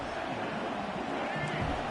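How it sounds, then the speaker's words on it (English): A stadium crowd at an Oregon vs MSU college football game gives off a dense, sustained roar of cheering and hubbub, with a commentator's voice faintly woven through the din. "This crowd bringing the energy and noise early."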